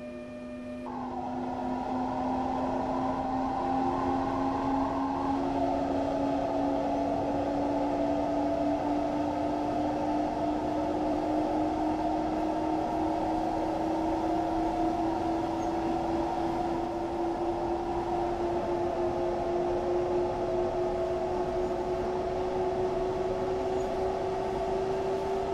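Interior of a double-deck coach hauled by a BR146.2 electric locomotive in Train Sim World 2, a steady continuous rumble with a rising electric motor whine and a tonal hum, with no talk throughout.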